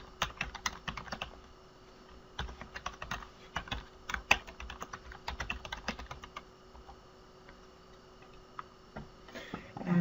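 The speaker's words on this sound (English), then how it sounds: "you're going to type in your maryland.gov ID one more time." Keys clatter on a computer keyboard as a login ID is typed in, a close, uneven run of sharp clicks in quick bursts with brief pauses, alone with no talk.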